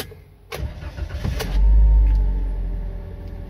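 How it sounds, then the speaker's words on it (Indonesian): A Toyota Calya / Daihatsu Sigra engine starts after a couple of small interior clicks. It catches with a loud, low rumble, then settles into a steady idle close by. "sekarang kita nyalakan mobilnya ya"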